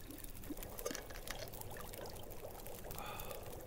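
Water poured in The Long Dark survival game, a soft, steady trickling pour lasting a few seconds, fairly quiet and mostly alone.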